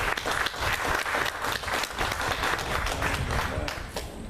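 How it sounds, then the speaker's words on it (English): A crowd applauds the racehorse Cigar, Racehorse of the Decade, with a steady, fairly distant wash of clapping that stays even throughout. "So how about a nice round of applause for Racehorse of the Decade, the Great Cigar."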